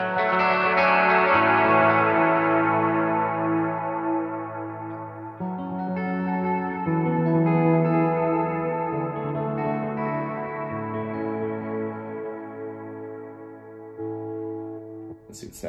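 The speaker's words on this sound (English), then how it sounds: "That turns on the second reverb here." Sustained electric guitar chords through a Princeton amp preset with a second ambient reverb ring out with lush, spacious reverb and shimmering modulation, each strum blooming and decaying slowly into the next.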